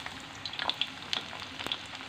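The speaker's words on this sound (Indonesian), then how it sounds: "Kita goreng dulu tempenya ya teman-teman." Tempeh frying in hot oil in a home kitchen for orek tempe, a soft steady sizzle with scattered crackles and pops, fairly quiet and close.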